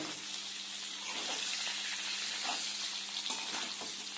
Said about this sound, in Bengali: এরপরে আমরা একটু মিশিয়ে নেব